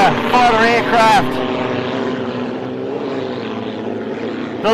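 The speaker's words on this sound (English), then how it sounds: "The unlimited hydroplane. The aeroplane, as we like to call" Unlimited racing hydroplane powered by a Rolls-Royce Merlin Spitfire engine, racing at Lake Eppalock, gives a loud continuous engine drone throughout, with a voice talking over the opening second.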